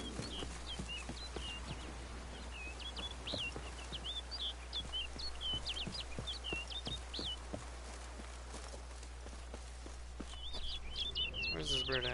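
Bird calls in The Witcher 3, bursts of high chirping song repeating over a low steady hum, with horse hoof clip-clops tapping throughout and a louder burst of calls near the end.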